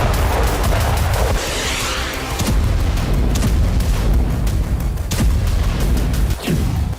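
Bombardment and artillery fire pound residential areas in Ukraine, with dense, overlapping booms and sharp blasts rolling one after another without pause.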